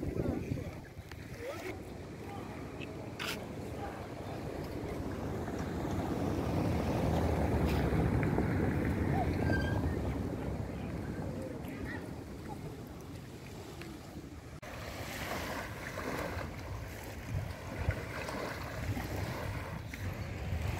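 A motorboat near a beach at Ilha do Frade in Vitória, Brazil, gives a low engine drone that swells and fades, mixed with steady wind buffeting and lapping water.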